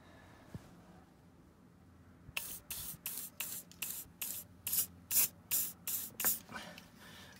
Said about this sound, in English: to protect my interior leather seat, I just wrap it with some wrap and I just apply the WD-40.